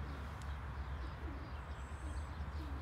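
Pigeons coo softly at a loft, low, murmuring calls repeating faintly beneath steady background hiss.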